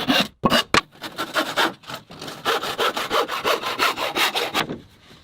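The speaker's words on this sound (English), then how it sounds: "Before the boards go up, Matt trims each one to size." Wooden roof boards being cut to size with a handsaw for a log cabin roof rebuild: steady back-and-forth rasping strokes in a quick even rhythm, close and clear, with a few sharp starts before the sawing settles in.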